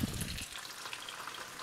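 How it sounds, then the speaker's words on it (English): Steady, close-up sizzle of an egg frying in a hot pan, a continuous crackling hiss with no voices. "as you put it back onto the heat, you are now frying the egg"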